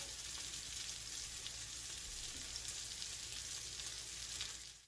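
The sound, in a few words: potato croquettes frying in a pan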